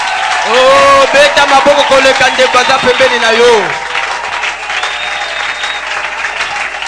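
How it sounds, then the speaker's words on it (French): A large crowd claps and cheers loudly at an event, with rhythmic applause and shouting voices that swell and then drop off to a lower, steadier murmur of scattered clapping after a few seconds. "Si ton voisin a acclamé plus que toi, toi tu acclames plus que ton voisin"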